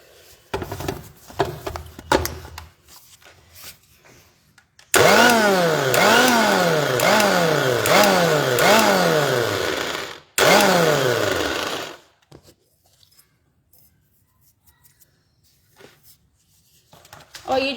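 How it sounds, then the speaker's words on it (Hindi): An electric grinder grinds pure millet flour in loud bursts with a rising and falling motor whine, starting after a few quiet seconds and then cutting off. "इसको बस मैं एक बार ग्राइंड कर लूं"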